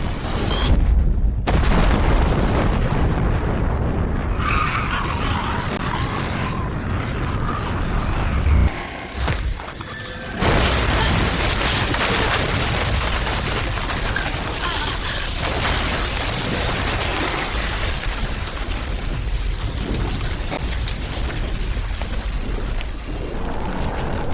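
A film bomb blast follows a weapon release from an aircraft: a loud, sustained roaring rumble of explosion fills the scene almost without break, dipping briefly partway through before surging back, dense and close with no dialogue.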